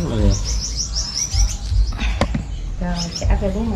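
Gouldian finches chirp close by in rapid high tweeting runs and short trills, repeated in bursts over low handling noises and rustling.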